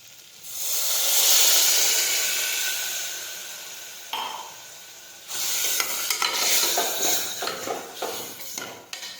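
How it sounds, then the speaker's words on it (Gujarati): Water poured into frying potato curry sets off a loud, rushing hiss that swells and fades over a few seconds, followed by scraping stirring and lighter sizzling in the pot. "હવે આપણે પાણી ઉમેરીશું"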